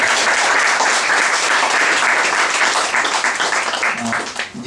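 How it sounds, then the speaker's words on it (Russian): Sustained audience applause fills a round-table event hall, dense and loud throughout with a slight tapering near the end. "давайте мы похлопаем вам"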